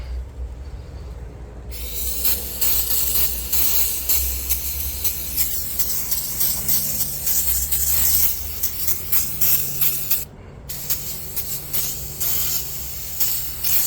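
Chemical cleaner sprayed onto the splines of a 2017 Cadillac XT5 transfer case (power transfer unit), a steady close hissing spray running in long bursts with short pauses and faint clinks behind it.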